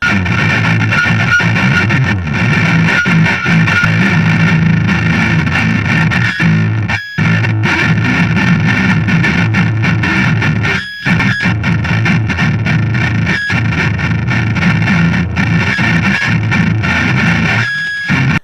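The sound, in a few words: electric guitar played on low strings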